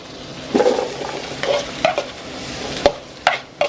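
Onions, celery and carrots are stirred in a hot pot with a soft sizzle, the spoon scraping across the bottom in several separate strokes, near and clear, with no talking.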